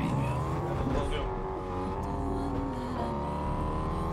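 Video game car engine in Fortnite, a steady droning motor with shifting pitch, heard continuously throughout under players' voices.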